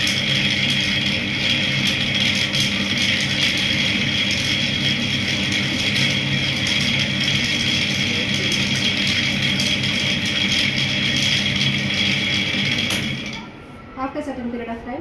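A ball mill, a hollow cylinder tumbling pebbles or grinding media, runs with a steady loud mechanical drone and hum before cutting off abruptly near the end, after which faint voices are heard.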